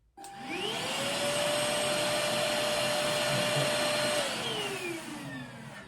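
A cordless vacuum cleaner, an HF1 Flexi, whirs up, runs steadily with a high motor whine for several seconds, then spins down, close and fairly loud.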